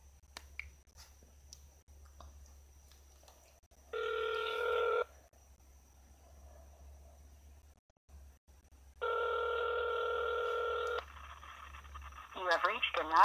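A phone call being placed: a loud, flat tone sounds for about a second, a longer tone follows after a quiet gap, and then a warbling electronic signal begins, all over a low hum.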